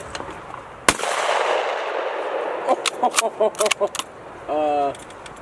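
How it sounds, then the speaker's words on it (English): A shotgun fires during skeet shooting, giving one sharp loud blast that rings briefly, followed by clicks and rattles of handling and a short mechanical buzz, with people faintly talking. "Nice shooting, Roy."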